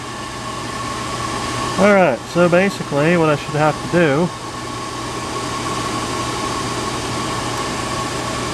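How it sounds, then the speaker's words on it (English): A large exhaust fan runs in a garage workshop, giving a loud, steady whirring hum with a constant drone throughout, while someone speaks briefly over it partway through. "That's my big ass exhaust fan on the back of there."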